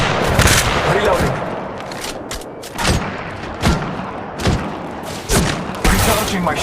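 Gunfire in the mobile game Apex Legends Mobile, sharp bursts of shots and thuds repeating in clusters over a busy game background, loud and close.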